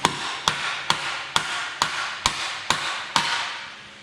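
Hammer blows drive a worn suspension bush out of its housing using a cup tool. Eight sharp metallic strikes land at a steady rhythm about half a second apart, close and loud.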